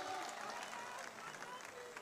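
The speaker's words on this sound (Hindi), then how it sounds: "बाबा बालकनाथ जी का जोरदार तालियों से अभिनंदन" An audience at a political rally in Nokha claps loudly to welcome Baba Balaknath, a dense crowd applause that stays steady throughout with no clear voices on top.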